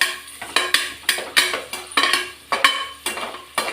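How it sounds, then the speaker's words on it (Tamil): Chopped onions being sautéed in a pan for kuska, with a utensil scraping and clattering against the metal in a steady rhythm of sharp, close strokes and a faint sizzle underneath. "கட் பண்ணி வச்சிருந்த வெங்காயம் வதக்கிடலாம்."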